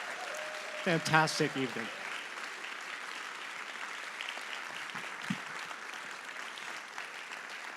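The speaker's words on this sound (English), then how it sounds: "how about one last final round of applause for all of our performers" Audience applause for the performers at an evening concert, a brief swell of clapping that fades into a steady crowd murmur while a speaker talks over it.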